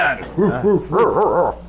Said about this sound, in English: Oh, sorry, pups. That's my dog,